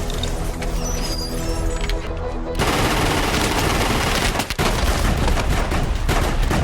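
Rapid bursts of pistol gunfire in a tense action scene from The Raid 2, loud and dense, shots overlapping with film music and effects throughout.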